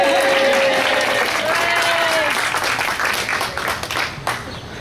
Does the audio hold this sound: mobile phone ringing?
no